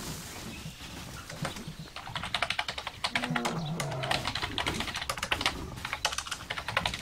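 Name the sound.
typing on a computer keyboard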